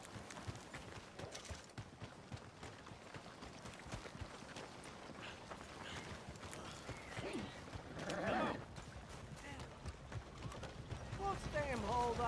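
Horse hooves clip-clop steadily in the video game Red Dead Redemption 2, a faint, continuous rhythmic patter across a town setting with brief louder rustles and a whinny-like tone near the end.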